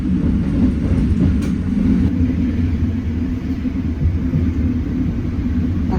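The KA Dhoho train departs Rejotangan station, a steady loud low rumble of rolling rail wagons that holds evenly throughout, with no voices.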